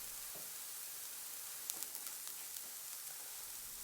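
Crushed garlic sizzles faintly in a pan with sautéed green beans. A soft continuous hiss carries a few small crackles and light stirring ticks near the middle.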